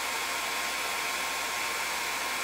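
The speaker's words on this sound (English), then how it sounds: "just go with the hair dryer" A hair dryer drying wood stain on a wooden board sign blows with a steady, loud, continuous whir and no breaks or other sounds.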